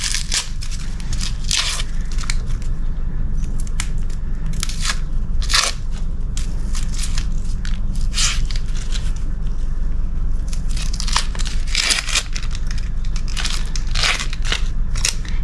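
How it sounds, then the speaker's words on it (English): Onion bulb having its layers peeled back by hand, giving repeated close crackling, crunching and snapping bursts over steady wind-like background noise, with no talking. "Peel back the layers."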